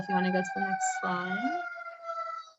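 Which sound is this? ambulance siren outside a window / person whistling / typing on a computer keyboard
ambulance siren outside a window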